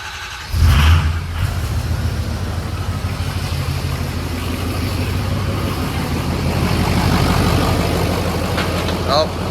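A Ford 6.0 Powerstroke diesel engine during a rebuild cranks and fires at about one second, then settles into a steady, loud, low idle rumble that holds to the end with little change in level.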